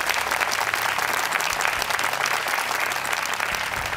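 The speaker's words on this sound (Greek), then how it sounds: "Ένα χειροκρότημα παρακαλώ." Studio audience on a Greek edition of a quiz game show breaks into applause, a full, even wash of clapping hands that holds steady for several seconds with no voices.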